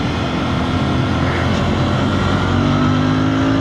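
Royal Enfield Bear 650 motorcycle engine pulling hard under acceleration, a loud, continuous rumbling drone with a rising tone near the end, heard up close with wind rush.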